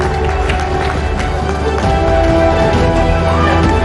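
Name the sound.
applause for Manoj Bajpayee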